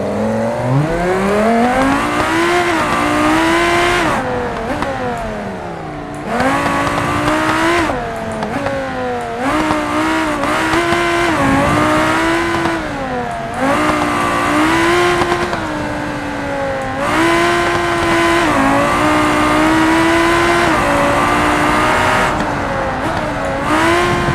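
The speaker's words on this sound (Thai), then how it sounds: "คุณยังสามารถเอารถแข่งสุดเท่ มาเทสสมรรถภาพในสนามแข่งได้อีกด้วย" A race car in the driving simulation game BeamNG.drive on a track: a loud, continuous engine note that climbs through the gears, dropping briefly on each shift and cutting back on lift-offs, alone with no talk.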